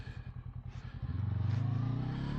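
A 2024 Honda NX500 motorcycle on the road, its engine pulsing rhythmically, then rising in pitch as the rider accelerates, with a steady close engine note and no talking.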